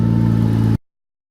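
Nissan R32 Skyline GTR engine running on a street, a steady loud mid-pitched drone with strong low harmonics that cuts off abruptly partway through, leaving silence.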